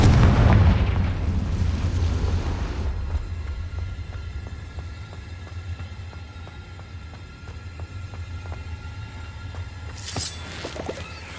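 A Confringo fire spell explosion in Hogwarts Legacy, a loud deep booming blast that rumbles and fades over several seconds, followed by a sharper burst near the end.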